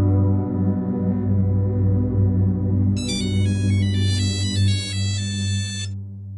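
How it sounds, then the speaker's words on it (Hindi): A phone ringtone signals an incoming call, a bright electronic melody starting partway through and repeating steadily over a sustained, loud musical underscore, with no talk. "गयूर भाई का फोन है"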